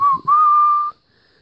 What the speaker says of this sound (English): They began whistling with joy.